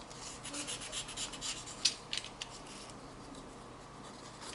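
EVA foam being cut and trimmed at the corners for a 3D craft piece, producing soft close rubbing and snipping sounds with a few sharper clicks, quiet and intermittent.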